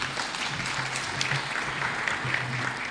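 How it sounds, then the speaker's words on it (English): A crowd at a national parliamentary symposium applauds steadily, a broad even clatter of many hands filling the room without pause, moderately loud and slightly distant. "Let us give him a better round of applause"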